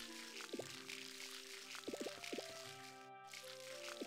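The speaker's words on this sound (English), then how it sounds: "Maybe we'll water what we got here" Watering crops in the farming game Harvest Moon: Light of Hope, a soft splashing pour of water laid under a light musical background, with a few short liquid bursts repeating across the field.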